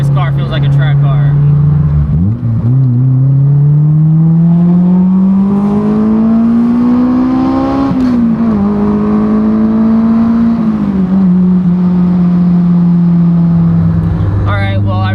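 An AP1 Honda S2000 roadster's engine, driven with the top down, climbs steadily in pitch as it accelerates through the gears, briefly dips, then holds a loud, sustained drone up close inside the car.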